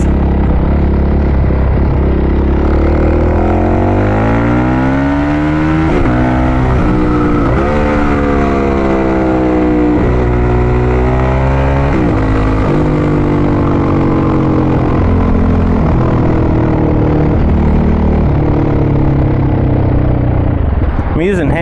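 A supermoto motorcycle engine runs loud and close, its pitch rising and falling with throttle, with wind noise over it and the rider talking throughout.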